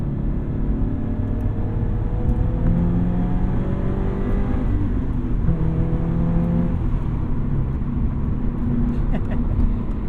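A 2022 Subaru BRZ being driven, its engine droning steadily with a low rumble and shifting tone as it accelerates, loud and continuous throughout.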